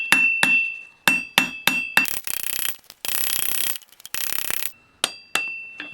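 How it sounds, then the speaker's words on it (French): A ball-peen hammer textures a forged steel belt buckle, ringing metallic strikes in quick irregular bursts, some spaced single blows and some rapid dense flurries, loud and close with no talking. "le marteau à boules. Et on va venir taper un peu partout"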